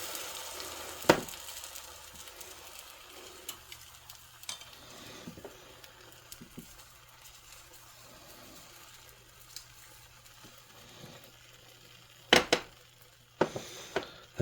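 Egg mixture for a Japanese rolled omelette frying in butter in a pan, a faint steady sizzle broken by occasional sharp clicks and scrapes of chopsticks or utensils against the pan.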